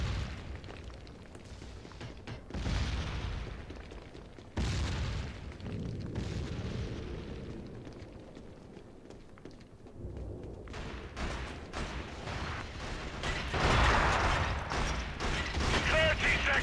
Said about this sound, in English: I didn't mean to start firing a grenade there